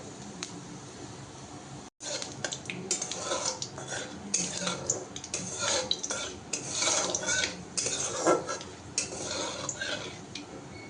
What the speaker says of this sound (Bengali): সর্ষে তেলে দিলেই ফেটে ওঠে।